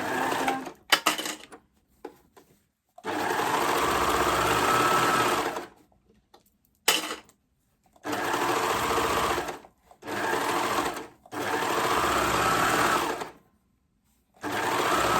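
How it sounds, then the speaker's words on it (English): A sewing machine stitching the side seam of a Rockford raglan top, running in several loud, steady, whirring bursts of a few seconds each, with short quiet pauses and faint handling clicks between them. "And then we're ready to sew this side."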